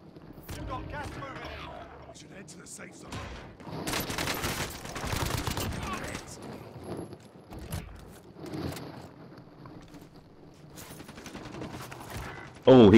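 Gunfire in Call of Duty Warzone rattles out in scattered bursts and single shots at varying distances, mixed with mechanical clatter and game effects, with a sharp loud burst at the very end.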